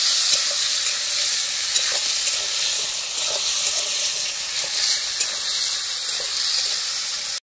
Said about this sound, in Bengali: আলুগুলো আমার ভাজা হয়ে গেছে সুন্দর করে,